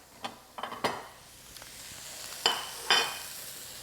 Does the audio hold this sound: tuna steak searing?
yes